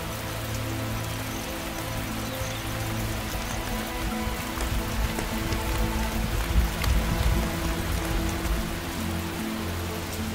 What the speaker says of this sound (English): Some find the cold downpour irritating